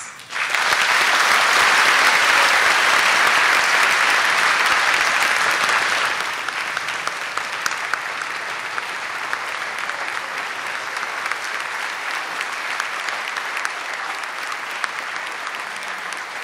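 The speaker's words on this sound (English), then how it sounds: "I would ask that we all give our new citizens a round of applause" Audience applause for new citizens at a naturalization ceremony in a community college hall, a loud, dense burst that eases after about six seconds into steadier, softer clapping that continues to the end.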